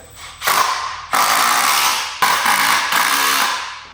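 A power drill drives screws into a wooden shipping crate in three long, loud whirring bursts separated by brief pauses. The driver is close and the sound is strong and continuous within each burst.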